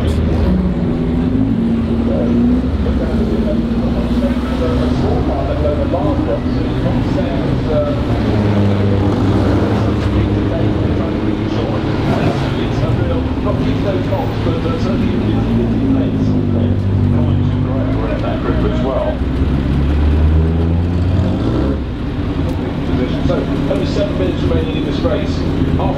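A 1930s Bentley Blower race car approaches at Goodwood Revival, its engine a steady, throaty drone that builds and shifts pitch as it draws closer, with people talking over it throughout.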